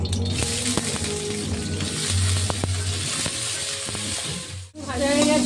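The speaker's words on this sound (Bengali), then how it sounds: "বেগুনটা ভেজে তুলে নেব" Cut eggplant pieces frying in oil in a kadai, a continuous close crackling sizzle with bubbling pops and occasional stirring clinks, no speech.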